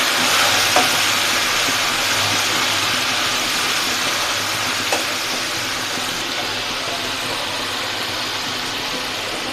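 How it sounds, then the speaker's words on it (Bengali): Spice paste of green chili and mustard paste frying in a pan with a little hot water, a steady dense sizzle running throughout with occasional faint scrapes of stirring. "ভালো করে মিক্স করে মশলাটা কষিয়ে নিতে হবে।"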